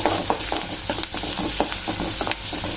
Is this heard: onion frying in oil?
yes